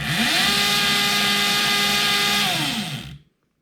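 A 2021 Torrot MX2 electric motorcycle run at full throttle, a loud steady high-pitched electric motor whine whose tone shifts slightly as it holds for about three seconds before cutting off abruptly.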